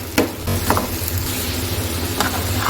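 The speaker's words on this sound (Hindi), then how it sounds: "कीमा जाएगा, इसको अच्छे से भून के फिर इसमें हम सीजनिंग ऐड करेंगे।" Chicken mince fries in a pan for kachori filling, giving a steady sizzle and hiss with a few light scrapes and stirring clicks.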